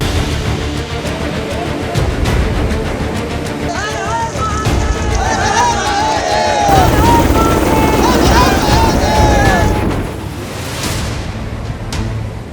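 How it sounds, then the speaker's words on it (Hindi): An Indian Army helicopter flies between mountain slopes during rescue work after a cloudburst near Sonprayag, Uttarakhand, its steady rotor drone partly masked by a narrator's voice and background music. "पहाड़ों के बीच हेलीकॉप्टर की उड़ान।"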